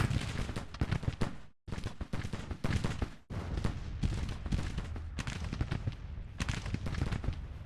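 Dense volleys of musket gunfire and booming artillery from a Civil War battle in a strategy video game, rapid overlapping cracks and blasts rolling on continuously with only a couple of brief lulls.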